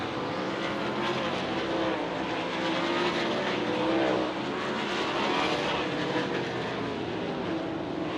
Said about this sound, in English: Justin Peck now goes quicker into the 14-second bracket at a 14:824.